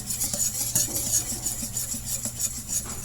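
Chiffon cake batter with baking powder being slowly mixed in a bowl, a continuous soft whisking and scraping with faint utensil clinks, steady and close, no voices.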